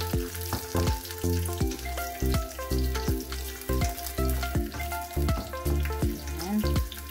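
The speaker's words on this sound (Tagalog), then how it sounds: "Gisa po natin yung karne." Meat and garlic sauté in a pan as the garlic turns brown, for a kangkong and tofu adobo, giving a steady, close sizzle that runs throughout at an even level.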